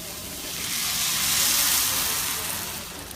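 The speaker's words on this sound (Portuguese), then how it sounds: "agora eu vou colocar água, quando secar eu vou vir com o caldo do polvo" Water is poured into a pan of rice with vegetables, making a steady hissing gush that swells and then eases over a few seconds, with no talk.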